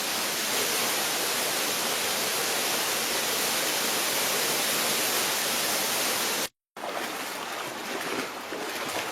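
Waterfall cascades in the Babor Atlas mountains, swollen by snowmelt, roar as a dense, unbroken rush of water that cuts out briefly near the end and then resumes.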